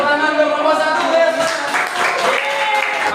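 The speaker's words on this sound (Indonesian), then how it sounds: "Coba kita tepuk tangan untuk kelompok 1 ya." Classroom applause for a student group after their presentation in an Islamic jurisprudence lesson: dense, steady clapping across the whole span, mixed with voices and some harmonic chatter.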